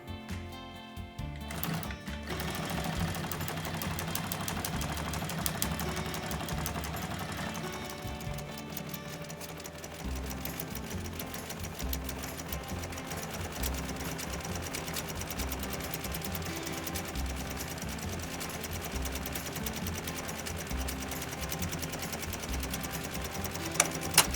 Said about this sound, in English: Got the industrial sewing machine set up